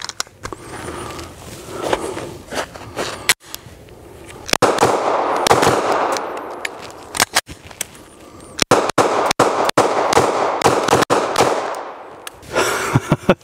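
A pistol fitted with a G-Flex trigger fires a fast string of sharp, loud shots, some spaced and others in quick bursts, between near-quiet gaps.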